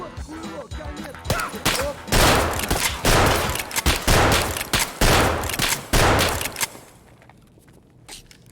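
Rapid bursts of gunfire in the shooter game Escape From Tarkov, with loud, dense volleys from about one to seven seconds that fade into quieter ambience at the end.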